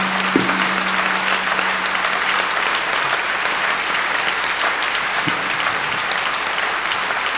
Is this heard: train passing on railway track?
no